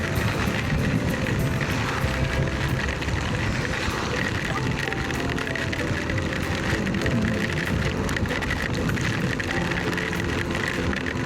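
Heavy rain pounds during a drive, a thick, constant hiss and patter that fills the whole stretch evenly with no voices.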